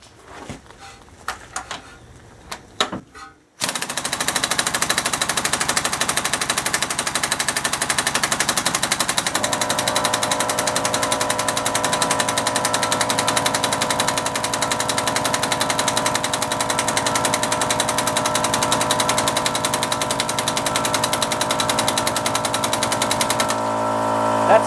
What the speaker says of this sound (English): I don't have high hopes for this compressor to be able to remove this crank bolt,